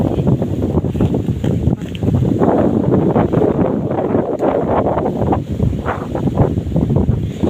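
Steady wind rushes and buffets throughout, a constant broad whoosh with slight gusty swells and no voices.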